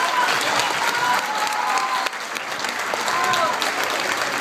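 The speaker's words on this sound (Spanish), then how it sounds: "Fuerte el aplauso, por favor," Loud, dense crowd applause fills a Guelaguetza celebration of Oaxacan folk culture, with a brief dip near the middle before swelling again, and faint cheering voices mixed into the steady clapping.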